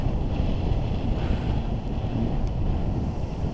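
Strong wind buffeting the microphone during kiteboarding on a pond, a loud continuous rushing roar with small gusting fluctuations and no voices.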